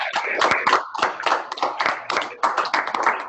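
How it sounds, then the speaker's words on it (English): A small group claps at a Pro Football Hall of Fame event honoring Dan Dierdorf, with distinct, uneven hand claps rather than a dense roar, close and moderately loud. "If we all give them one round of applause"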